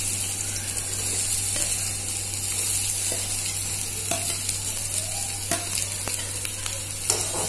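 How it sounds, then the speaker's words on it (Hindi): Chopped onions fry in a spoonful of hot oil in a pan, giving a steady, close sizzle with light crackles and occasional stirring scrapes, with no voices. "अब हम इसमें अपने कटे हुए प्याज डाल देंगे।"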